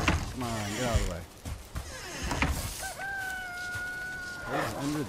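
Hens in Valheim cluck and crow in a crowded farm pen, several bird calls in quick succession including a drawn-out crowing call, close and moderately loud over game ambience.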